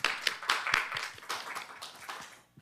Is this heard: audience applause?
yes